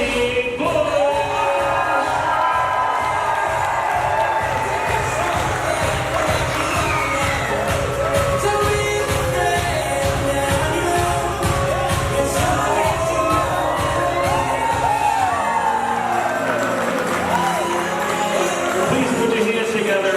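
At a wedding reception, a crowd claps and cheers steadily for the entering bridal party, with whoops and children's shouts rising over a rhythmic beat of music, which drops away near the end as the noise continues.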